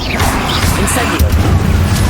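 In Hogwarts Legacy an Incendio fire spell erupts with a loud whooshing, rumbling boom and crackling bursts, layered over continuous combat noise.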